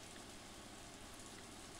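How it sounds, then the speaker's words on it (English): Steady rainfall in the farming game Story of Seasons, a soft even hiss that runs without a break and stays faint throughout, with no talking over it. "Everybody's out in the rain because it's beautiful"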